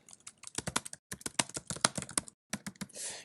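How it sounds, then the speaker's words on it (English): Brisk typing on a computer keyboard, irregular bursts of close, crisp key clicks with short pauses between phrases, no talking over it. "And I can type in, hey Josh"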